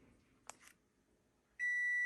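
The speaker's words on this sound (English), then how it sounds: "Okay, the timer is up." A kitchen timer used while baking bacon in the oven gives one loud, steady electronic beep that starts near the end and holds. Before it there is only a quiet room with a faint click.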